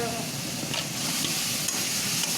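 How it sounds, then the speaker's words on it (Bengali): Steady sizzling of food frying in hot oil, a close, continuous crackle with occasional stirring scrapes and no voices. "ভাজা হয়ে গেছে তেল বেরোচ্ছে"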